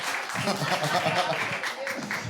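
Audience applause for a slam poet at a poetry slam tournament in Nice, a dense continuous wash of clapping and crowd noise lasting throughout, with voices mixed in.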